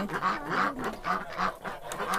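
Several ducks quack in a quick, repeated rhythm in a Polesian village yard, close and fairly loud, with no talking.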